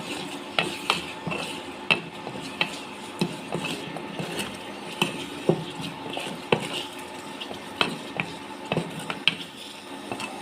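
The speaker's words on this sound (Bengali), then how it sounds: "মশলাগুলো কষিয়ে নেবো আমি।" A utensil stirs and sautés spices with chopped green chillies in a pan, striking the metal in regular sharp clinks about every second over a steady low sizzle, with no one speaking.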